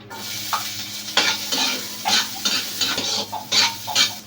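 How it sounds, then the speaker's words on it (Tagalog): Sautéing in a small amount of cooking oil for bitter gourd with sardines, with bursts of sizzling and the scrape of a spatula stirring in a pan in a rhythmic series of close, fairly loud strokes. "Igigisa ko na to guys. Konting mantika lang ako guys."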